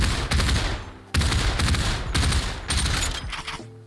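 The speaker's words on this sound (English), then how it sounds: "First, we fire a full magazine single-handed." Full magazine from an MK18 assault rifle emptied single-handed in the Population ONE VR shooter, loud sustained bursts of rapid gunfire broken by brief gaps, no talking.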